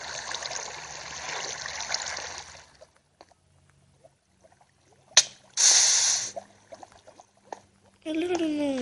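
Character moving through water in a Minecraft survival game: a steady, fairly loud rush of swishing, splashing water for about three seconds, then near silence broken by a few short bursts of noise, with a voice briefly heard at the end.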